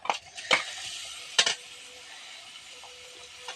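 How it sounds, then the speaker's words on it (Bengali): Fried mung dal is stirred in a pan with spiced oil for a pointed gourd and dal recipe: a few scraping spoon strokes at the start, then a soft, faint sizzle continuing alone. "দিয়ে একটু নাড়াচাড়া দিয়ে নেবো"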